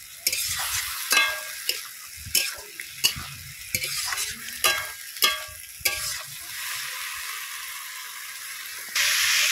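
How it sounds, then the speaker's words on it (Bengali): Gandal (skunkvine) leaves stirred in a frying pan: a run of sharp spatula scrapes and clacks roughly every half second over a light background sizzle, close and fairly loud, ending in a louder burst of hiss. "তা আমিও দিয়ে দিলাম সবটুকুই, দিয়ে খুব সুন্দর করে নেড়ে চেড়ে নিলাম।"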